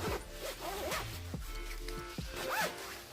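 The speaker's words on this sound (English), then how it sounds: "Let me zip it up and show y'all." A jacket being zipped up during an off-season try-on, with several quick, close zipper rasps separated by short pauses.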